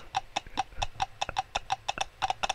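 Hooves clip-clopping from a horse in the video game Clop, a quick, even run of about a dozen sharp knocks, close and alone.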